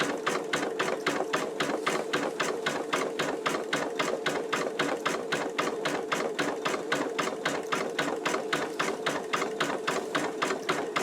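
Pfaff embroidery machine stitching an in-the-hoop wallet, a steady, rapid mechanical clatter of needle strokes running continuously and close up at even volume throughout, with no voices.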